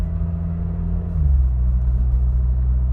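A Peugeot 306 with a 1.6 petrol engine and AL4 automatic gearbox hums steadily while driving under light throttle, a close interior drone that drops in pitch as the transmission shifts, then settles into a deeper, louder rumble.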